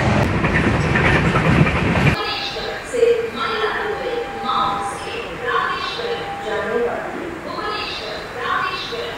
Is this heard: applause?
no